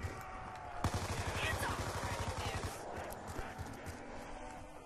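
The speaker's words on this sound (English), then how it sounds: "Just shoot up the zombies." Rapid gunfire cutting down zombies in Black Ops 2 Tranzit, a quick rattling burst of repeated shots lasting a couple of seconds over busy game noise, then fading into quieter ambience.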